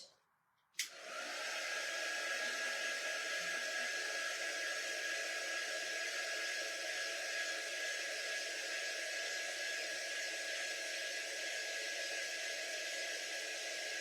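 A hair dryer blows on a strawberry-decorated mason jar craft, starting abruptly after a moment of quiet and then holding a loud, steady, breathy roar to the end with no talking.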